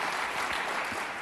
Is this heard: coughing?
no